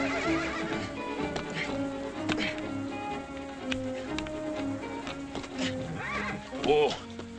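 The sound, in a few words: horse whinnying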